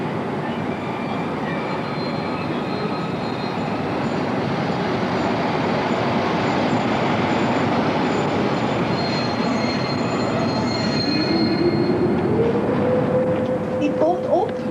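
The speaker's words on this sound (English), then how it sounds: "The train is stopping here." A train rolls to a stop at a station, a steady rumble of wheels on rail under the carriage, with wheel squeal rising near the end as it brakes.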